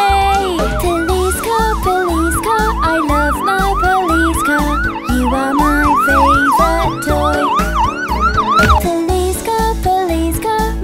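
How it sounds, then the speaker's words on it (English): A police siren wails in a fast repeating up-and-down pattern over a steady beat of children's song music, loud and continuous. "When the siren makes a sound, my police car always saves the day."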